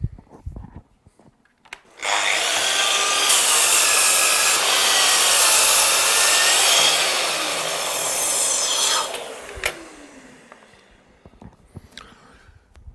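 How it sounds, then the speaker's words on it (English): A Festool Kapex KS60 mitre saw cuts through dimension timber with a loud, sustained rasping whine lasting several seconds, then the motor spins down as the blade clears the wood. "working with the KS60 to cut dimension timber like this means we have enough power to go through the machine"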